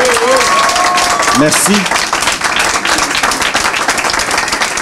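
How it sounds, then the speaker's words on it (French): A crowd at a Lachute civic political gathering applauds their mayor Bernard, steady loud clapping throughout with a brief voice speaking and a few whistles over it near the start. "je veux qu'on applaudisse Bernard vraiment beaucoup"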